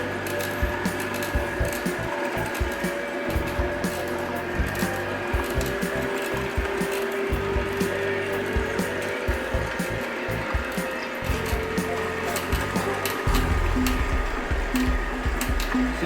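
Two $99 slow juicers grind and crush an orange side by side, giving a continuous close mechanical drone with repeated creaking, crackling pulses and a deeper rumble toward the end, with no talking.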